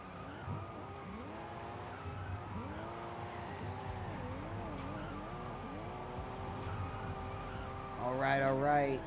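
A race car at a FDE Grassroots motorsport event at Lime Rock peels off, its engine rising and falling in repeated rev sweeps with tire squeal, swelling louder at the end while a commentator speaks over it.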